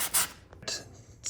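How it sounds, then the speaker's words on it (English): Sandpaper rubbing along the edge of a thrifted cottage patina decor piece, giving short, close scratchy rasps in a few separate bursts with brief pauses between. "I'm just cutting this little edge right here with the sandpaper."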